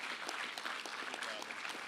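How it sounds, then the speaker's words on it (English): Steady audience applause at a business meeting, honoring newly named foundation board officers; dense, even clapping throughout, moderately distant with no voices over it. "Please give them a round of applause."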